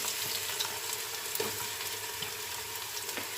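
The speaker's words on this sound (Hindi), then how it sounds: "ऑयल में हम एक प्याज है जो दरमियाना कटा हुआ वो शामिल करेंगे" Medium-chopped onion frying in hot oil for an aloo chicken shorba, a continuous soft sizzle and crackle, fairly faint and close, with small scattered pops and no talking.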